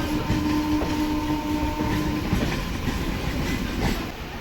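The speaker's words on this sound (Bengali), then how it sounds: "ট্রেন ঢুকছে সাঁতরাগাছি" The Amaravathi Express rolls into Santragachi station near Kolkata, a loud steady rumble of wheels on track with rhythmic clattering over joints and a brief high tone early on.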